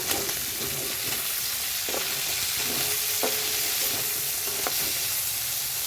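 Sliced okra frying in a pan with a little onion over lowered heat, a steady loud sizzle with a few sharp scrapes of stirring, no voices.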